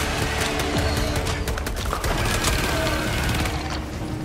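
Rapid gunfire from a teammate in Helldivers 2 crackles in dense bursts over a constant roar of battle noise, loud and close, with a few faint voices beneath.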